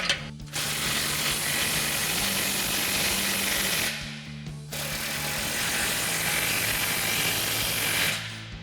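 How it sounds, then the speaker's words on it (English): A power tool whirs and ratchets in two long sustained runs, separated by a short gap, while exhaust clamps are tightened on a Silverado 2500 fitted with a Flowmaster American Thunder dual exhaust system. "start fully tightening all of our clamps and everything down"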